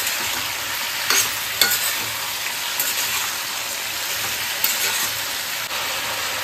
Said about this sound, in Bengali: তো দেখো দিয়ে আদাটা দিয়ে ভালো করে নাড়বো।